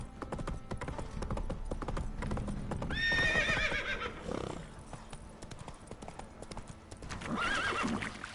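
Roach the horse from The Witcher 3 trots with steady hoof clip-clops and lets out two whinnies, all close and clear over game ambience.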